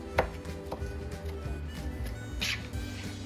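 Soft, irregular knife taps against a cutting board as tomatoes are chopped, a few quick chops close by amid low background hum.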